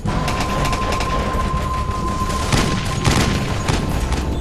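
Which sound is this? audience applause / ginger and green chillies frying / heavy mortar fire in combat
heavy mortar fire in combat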